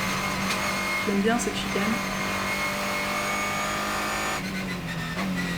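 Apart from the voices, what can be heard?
Ligier JS2R race car engine on track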